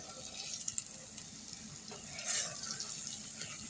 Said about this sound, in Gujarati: તો મસાલા સરસ ચડી ગયા છે, આપણે ચણા એડ કરી દઈશું